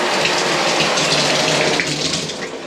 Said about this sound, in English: The shower pressure here